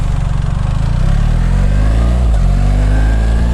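A BMW adventure motorcycle rides along, its engine loud and close with a steady rumbling drone that dips briefly as it shifts gear, then pulls on again.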